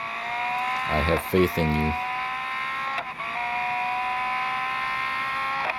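A Ferrari SF90 hybrid engine drones at high revs in a racing video game at Silverstone. The buzzy tone holds nearly steady throughout, and someone talks over it.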